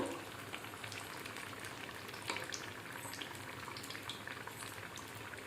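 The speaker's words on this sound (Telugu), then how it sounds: "ఇవి బ్రౌన్ కలర్ వచ్చే వరకు వేయించుకుందాము" Onion and chili bajji fry in hot oil, a steady, dense sizzle and bubbling crackle heard up close, continuous and moderately quiet.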